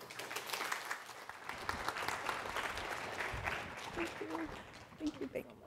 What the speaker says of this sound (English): Please give a warm round of applause for Ms.